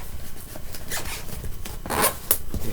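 A Pokemon Primal Clash booster pack's foil wrapper is torn open by hand, giving a close, loud series of crinkly rips and rasping tears, with a sharper burst near the end.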